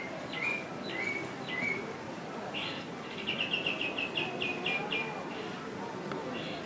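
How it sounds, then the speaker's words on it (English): Recorded birdsong plays in the orchid gardens at Singapore Changi Airport: a few separate bright chirps come first, then a quick run of trilled tweets over a soft background hum. "You hear the birds up there?"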